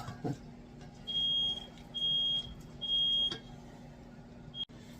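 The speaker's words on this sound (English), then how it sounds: "My touchy fire alarm went off, so I had to go take care of that." A touchy smoke alarm goes off in a home kitchen while shrimp is being cooked, sounding three steady high-pitched beeps a few seconds apart over a low background hum.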